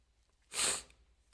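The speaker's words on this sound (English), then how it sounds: "How did I suddenly sitting here catch a cold with just one sneeze?" A single sharp sneeze, short and close, rising out of near silence and fading within a fraction of a second.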